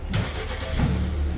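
A 2018-or-later Ford Escape engine cranks and catches after a crash repair, a short close starting burst that settles into a steady running rumble, with no talking.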